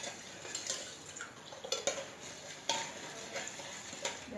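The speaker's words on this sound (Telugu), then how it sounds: "ఇలా బెల్లం అంతా కరిగేదాకా కలుపుకోవాలండి." Jaggery dissolving in water as panakam is stirred in a pot for Sri Rama Navami prasadam, a spoon scraping and clinking against the metal in irregular soft strokes, quiet and close with no talking.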